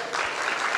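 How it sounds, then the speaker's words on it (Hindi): A brief burst of loud clapping from an audience at a trailer launch event for a Hindi film, dense and close. "जोरदार तालियां"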